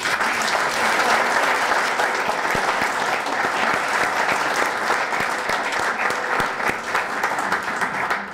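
Sustained, steady audience applause at a talk welcoming Susan and photographer Rodrigo Moya, dense clapping from many hands that stays loud and even throughout without letting up.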